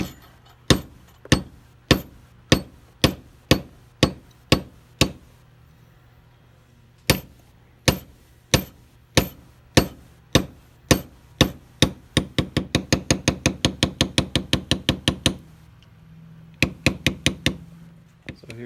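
A line pear shader tool is struck into leather on a saddle, producing sharp, close knocks in a steady rhythm that speed into a rapid run of taps before a short pause and a few final strikes.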